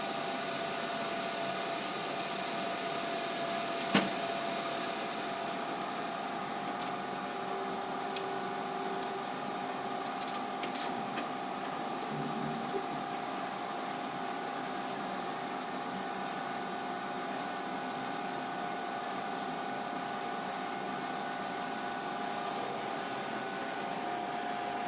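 A Plate Writer 2000 plate imaging machine runs with a steady, even mechanical hum and fan-like whir, broken by one sharp click early on and a few faint ticks.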